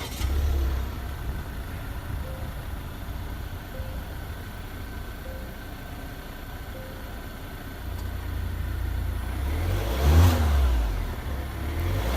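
A 2018 Volvo V90 T5 Cross Country engine starts and runs at a low, steady idle hum, then swells in a brief rev near the end before settling back down.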